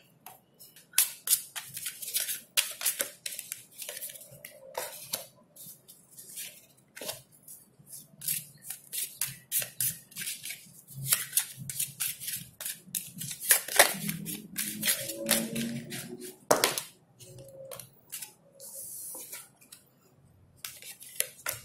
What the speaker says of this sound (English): I'm going to actually pull some tarot cards first